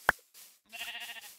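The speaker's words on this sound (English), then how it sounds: "there's sheep all over this area" Sheep bleating in the Minecraft video game: a sharp click, then one clear, fairly close wavering bleat, with no voices over it.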